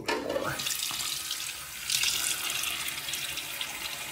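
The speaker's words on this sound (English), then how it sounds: "Let me get my face wet a little bit more." Bathroom sink tap running while a face is wetted for a shave, a steady soft stream of water with faint splashing, fairly quiet and with no talking.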